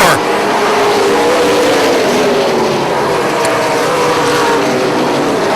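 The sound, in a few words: super late model race cars racing on track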